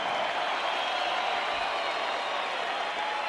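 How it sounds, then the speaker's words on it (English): Boxing arena crowd at Mandalay Bay in Las Vegas applauding two fighters after a bout, a steady, even wash of distant clapping and crowd noise with no break. "a round of applause for these 2 warriors in the ring"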